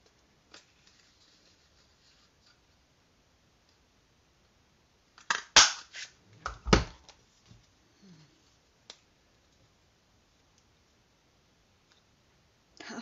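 Paper card stock being trimmed to size for a handmade Easter card, heard as a quick cluster of sharp cutting snaps and clicks midway through an otherwise quiet stretch, with a few faint ticks before and after.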